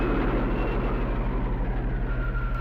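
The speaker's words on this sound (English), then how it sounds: "Stand by for rocket takeoff." Rocket takeoff in an old science-fiction serial, a loud continuous low engine roar with a steady throbbing pulse and dense rumbling noise, sustained without voices.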